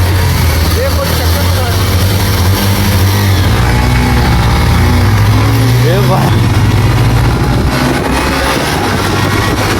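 Honda and Pulsar motorcycles rev hard during a bike race, with loud, steady engine roar and rising pitch sweeps over constant wind and road noise, close and dense throughout, while people talk over it.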